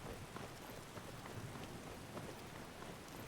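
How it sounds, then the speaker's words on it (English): Steady rain falling in the Skyrim video game, a dense continuous hiss of drops with faint low rumbles underneath, with no voices over it. "How's this rain on the compression?"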